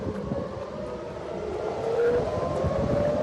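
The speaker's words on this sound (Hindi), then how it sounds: "टेल अवीव में हर तरफ से सायरन बज रही है" Air raid sirens sound across Tel Aviv during a wartime alert, a distant wailing tone rising and falling over low background noise and rumble, with no speech.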